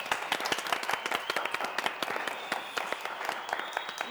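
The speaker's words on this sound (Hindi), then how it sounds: "सब लोग ताली बजाओ ना।" A small studio audience on a comedy show applauding, a brisk burst of many overlapping hand claps at moderate loudness, with no one speaking.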